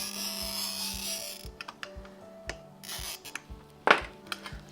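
A glass cutter scores pink stained glass along a pattern line for a school art project, giving a steady hissing scrape followed by scattered small clicks and one sharper scratch near the end, heard close and alone.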